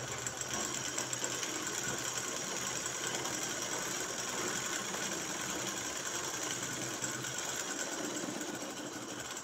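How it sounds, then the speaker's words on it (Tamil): A sewing machine runs steadily and close, stitching a shirt seam where the sleeve joins the body, with a continuous even whir and no talking. "இனிமேல் கையை இப்படி நேரே வச்சுட்டு இந்த பக்கம் ஓரமாக தைக்கிறோம்."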